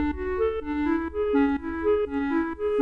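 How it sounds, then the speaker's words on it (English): A clarinet preset from FL Studio's Flex plugin plays a steady, looping arpeggio of quick reedy notes in a pop production, clear and close with no voices. "And the sound that I use is a clarinet preset from Flex."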